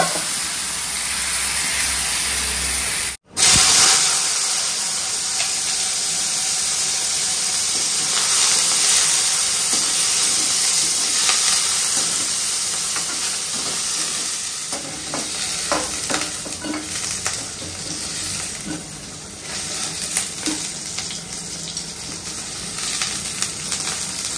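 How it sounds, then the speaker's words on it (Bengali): Marinated chicken fries in a little oil over low heat, giving a steady close hiss and sizzle with occasional stirring scrapes. The sound runs continuously after a brief cut near the start. "আর একটু সামান্য তেল দিলাম, চিকেনটা দিয়ে কম আঁচ করে বসিয়ে দেবো, হতে থাকুক।"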